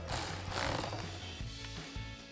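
A ratchet wrench tightens a nut on the red wire connection while a Rough Country rear tubular bumper is installed on a Jeep Gladiator JT, giving a continuous close mechanical clicking and grinding with no voices.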